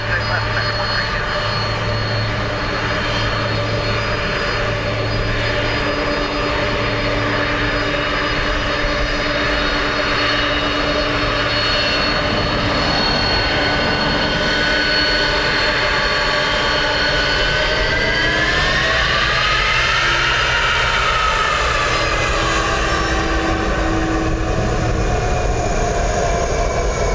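American Airlines flight 132 lands on runway 28 left at Dublin Airport, a loud sustained jet engine whine with rising and falling tonal sweeps, as voices talk over it.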